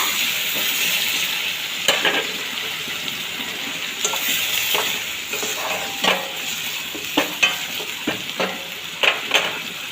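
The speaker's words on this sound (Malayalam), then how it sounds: "ഇനി നമുക്ക് അതിലേക്ക് തക്കാളി ഇട്ട് കൊടുക്കുക." Tomato stirred into beef curry frying in a pan, giving a steady sizzle with scraping stirs and soft wet clacks recurring every second or so, close by with no talk.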